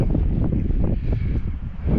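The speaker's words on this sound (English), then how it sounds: "because it's windy" Strong storm wind buffets the microphone while fishing, a loud continuous low roar with gusty fluctuations throughout.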